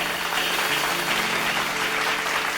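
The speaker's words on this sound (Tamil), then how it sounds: "கைத்தட்டுங்க." A church congregation claps hands together in a dense, steady wash of applause that fills the room without pause.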